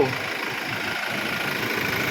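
A Toyota Innova's engine runs steadily at idle, a continuous, fairly loud mid-to-low rumble with no pauses and no voices.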